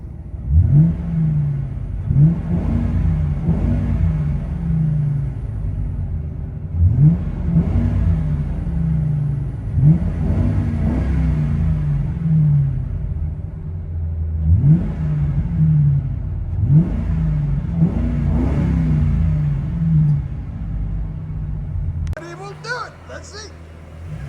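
A 2005 Ford Crown Victoria with a 4.6L V8 and Flowmaster Flow FX exhaust revs repeatedly, heard from inside the cabin as a deep, throaty rumble rising and falling in about six steady pulls.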